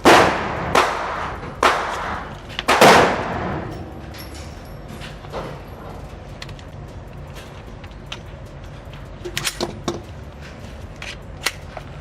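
A rebuilt AR9 carbine fired at a shooting range: three loud, sharp reports ring out close together in the first few seconds, followed by quieter clicks and handling noises.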